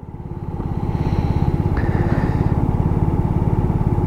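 A Lexmoto Echo 50cc scooter engine idles close by with a fast, even putter, its quick regular pulses continuing steadily throughout, with no speech.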